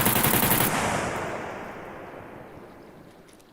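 A weapon firing in the survival game SCUM: a loud, rapid burst of shots at the very start, then a long rumbling echo that slowly fades away.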